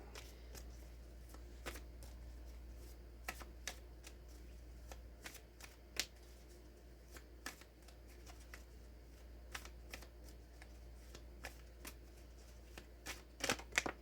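Tarot cards shuffled and drawn by hand, a steady soft riffle broken by crisp snaps and flicks at irregular intervals, close and fairly quiet over a low steady hum.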